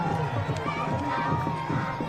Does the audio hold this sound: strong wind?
no